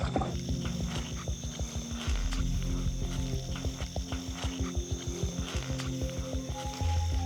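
Common frogs croaking at night in a steady chorus of rapid, pulsing calls, close and continuous throughout, with no voices present.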